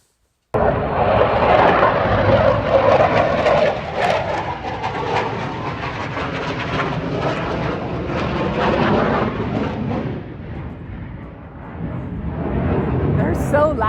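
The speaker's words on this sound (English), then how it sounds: "They're so loud. That's F-35 noise for you." F-35 fighter jets roar overhead, a loud, continuous broadband rumble filling the whole stretch, swelling and easing slightly over time. A voice talks faintly beneath the jet noise.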